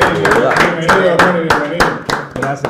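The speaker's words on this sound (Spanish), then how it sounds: "Yo creo que eso merece un aplauso." Studio audience applause welcoming a guest on a Spanish-language interview show, a steady patter of clapping with speech running over it throughout.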